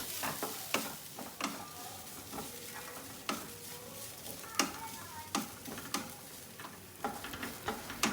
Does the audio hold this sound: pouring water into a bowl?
no